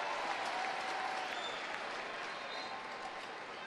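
A soccer crowd at a Portland Thorns women's match applauds a veteran player, a steady, broad roar of clapping and cheering from a large stadium audience, with no clear voices above it.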